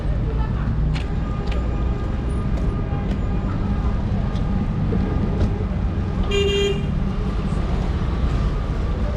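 Small taxis and cars passing on a city street in Bloemfontein, South Africa, a continuous close traffic rumble with a short horn toot partway through and voices talking over it.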